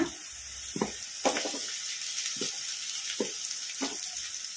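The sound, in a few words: cabbage frying with onions in oil for egg fried rice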